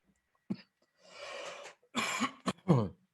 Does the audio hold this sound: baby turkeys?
no